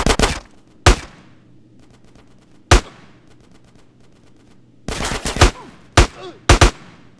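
Gunfire from GTA San Andreas rings out loud and close, with isolated single shots followed by short rapid bursts, each leaving a ringing decay, and brief quiet gaps in between.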